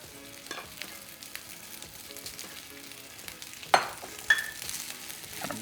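Garlic frying in a pan as the base of vegan fried rice, sizzling steadily and close, broken by a couple of sharp clatters from stirring, with no voices.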